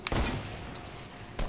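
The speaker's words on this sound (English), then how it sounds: "I'm gonna shoot him with a sniper." A loud gunshot burst in the video game Fortnite, fired with a sniper rifle, opening with a sharp report that is followed by a sustained rumbling tail and a second crack near the end.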